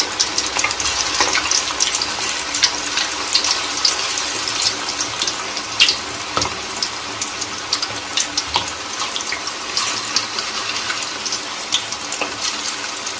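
Chilli chicken pieces fry in hot oil, giving a steady bright sizzle with scattered pops and crackles throughout, close and fairly loud, with no talking.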